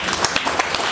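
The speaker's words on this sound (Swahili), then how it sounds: "Hebu tumpigie makofi mama jamani." Applause for the mother at a family gathering, a short burst of many hands clapping in a quick, uneven patter.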